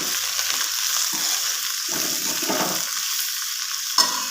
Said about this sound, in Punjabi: ਹੁਣ ਆਪਾਂ ਇਹਨੂੰ ਚੰਗੀ ਤਰ੍ਹਾਂ ਕਰਾਂਗੇ ਮਿਕਸ